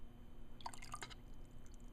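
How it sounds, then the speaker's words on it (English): Water drips one drop at a time from lab equipment during a mineral density experiment, giving a couple of faint, quick plinks over a steady low background hum, with no talking. "Is it going to get one more drip? I think so. Here it comes."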